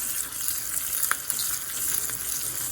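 Tadka with green chilies and curry leaves sizzles in hot oil, a steady bright crackling hiss with a few sharper pops, close and alone without voices.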